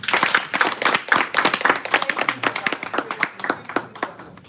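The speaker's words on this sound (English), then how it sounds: "Give ourselves a round of applause." A room of meeting attendees gives themselves a round of applause at a Toastmasters gathering, dense clapping from many hands, loud and close, thinning toward the end.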